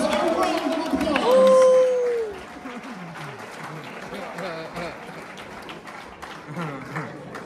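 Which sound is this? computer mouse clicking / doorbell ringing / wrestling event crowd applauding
wrestling event crowd applauding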